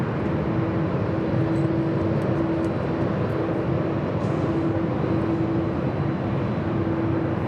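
Airbus A330-300 airliner rolling down a runway at LAX, a steady far-off engine roar with a faint intermittent hum over it, no voices heard.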